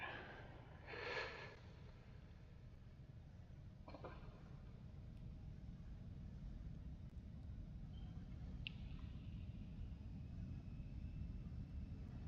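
Embraer E175 jet engines spool to takeoff thrust, heard from the cockpit as a steady, muffled broadband roar with a few brief breathy noises near the start.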